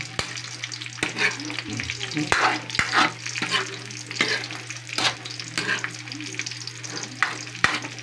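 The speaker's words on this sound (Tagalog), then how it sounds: "Pag luto na po yung palaya, pwede na pong haluin yan." Bitter gourd sizzles steadily in a hot pan while a utensil scrapes and clacks against the metal in irregular strokes, close up.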